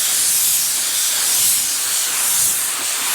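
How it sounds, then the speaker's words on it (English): A spray gun lays a light guide coat of paint, held back from the surface. A loud, steady, close hiss of atomized spray runs unbroken throughout. "So for a guide coat, we just stand back, light layer of paint,"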